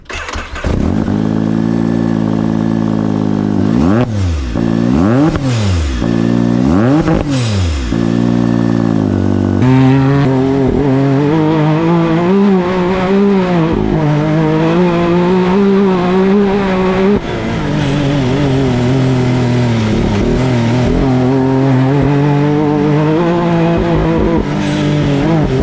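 Can-Am Maverick R side-by-side fitted with an RPM sport muffler, revving loudly with sharp rising and falling engine sweeps, then a sustained high-revving run as it rides through the desert, close and continuous.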